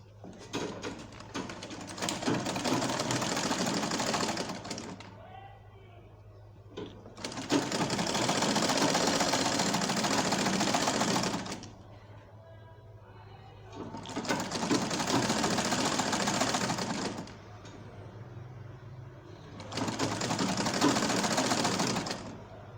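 A sewing machine stitches a one-inch double-folded jumpsuit hem in four loud, steady runs of whirring, each several seconds long, broken by short quiet pauses.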